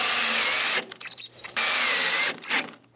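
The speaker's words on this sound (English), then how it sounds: "Screw it in." Power drill driving a screw into wood while building a coffee table, a loud steady whine for most of the clip, dropping out briefly in the middle and again near the end.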